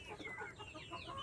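A brooding hen sitting on eggs makes low, soft clucks and murmurs in short irregular bursts at close range, with no one talking.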